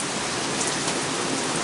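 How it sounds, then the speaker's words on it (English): Heavy downpour of rain falling steadily outdoors, a dense, continuous hiss of drops hitting surfaces with no breaks. "There's some rain."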